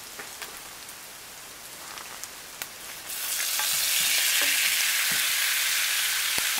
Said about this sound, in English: so I'm going to go ahead and put those shrimp in.